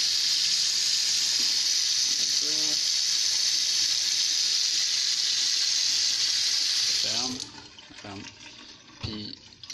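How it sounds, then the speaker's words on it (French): A restaurant sink tap runs at full flow, a steady loud rush of water that cuts off abruptly near the end, leaving quieter clatter and faint voices. "Tu l'ouvres juste un petit peu. Juste un peu d'eau qui coule."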